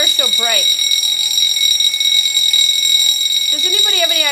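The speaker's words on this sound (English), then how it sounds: "the fire alarm is going in the studio" A fire alarm sounds in a TV studio as a loud, continuous high electronic tone under a voice speaking at the start and end.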